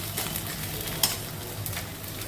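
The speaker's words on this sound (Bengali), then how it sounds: "চলো এটাকে আগে আমি প্রথমে ভেজে নিই" Spiced food fries in a pan with a soft, continuous sizzle and light stirring scrapes, a single sharper clink in the middle, at moderate volume with no talk.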